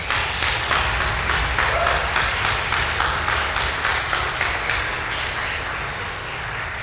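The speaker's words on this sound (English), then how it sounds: "Let's give him a round of applause." Sustained audience applause at an orchestra strings event, a dense steady wash of many clapping hands that carries on without letup and eases slightly toward the end.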